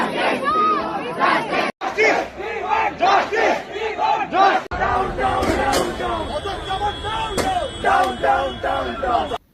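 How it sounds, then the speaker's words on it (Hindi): A large crowd of university students protests in unison, rhythmic loud chanting and shouting surging in waves, dense and close. "कुछ स्टूडेंट्स ने प्रोटेस्ट शुरू की तो धीरे धीरे दूसरे स्टूडेंट्स भी साथ जुड़ते गए और भीड़ बढ़ती गई।"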